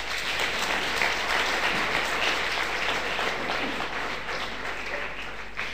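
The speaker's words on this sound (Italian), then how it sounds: "Un applauso." Audience applause at a live public event with young people and musicians, sustained and even hand clapping from a large crowd, heard at a steady level from start to finish.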